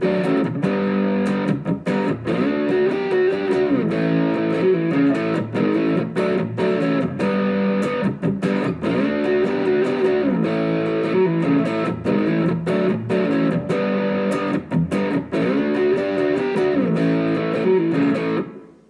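A heavily distorted electric guitar riff on the neck pickup, darker toned, repeats in a chugging, rhythmic pattern of palm-muted hits and sustained chords, loud and close for about eighteen seconds before cutting off.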